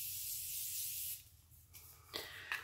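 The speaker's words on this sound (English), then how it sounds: "I'm gonna use my Morphe setting spray. This is my favorite setting spray of life. So I'm just gonna spray." Morphe makeup setting spray misted in short bursts close by, a soft airy hiss that fades, then a few quieter sprays and light handling noises follow.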